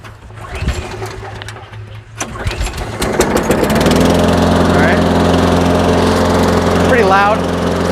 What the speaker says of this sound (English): Now a normal gas mower, you gotta prime it a few times.